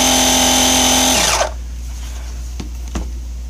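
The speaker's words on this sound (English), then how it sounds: "I'm going to just power it on. And so it's going to actually make a loud sound, just like a compressor would." A portable battery jump starter's built-in air compressor runs with a loud, steady motorised drone, then winds down and stops partway through, followed by a couple of faint clicks.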